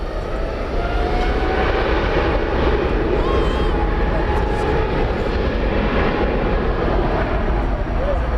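A jet airliner lands on runway 18 right at DFW Airport at night, with a loud, steady engine roar and rumble throughout and air traffic control radio talk over it.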